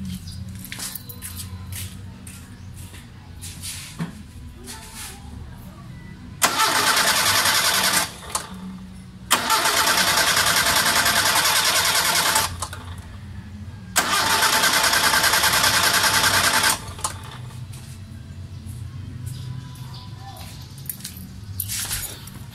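A vehicle engine fitted with a fingerprint anti-theft device cranks three times without catching. Each steady whirring attempt lasts a few seconds, with pauses between, over quiet background noise.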